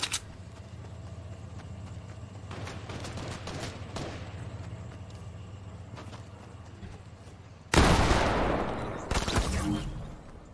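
Rapid SMG gunfire in the Fortnite video game rattles in bursts: a few sharp shots early, dense automatic fire around the middle, then loud, close sustained bursts near the end over a constant background hum.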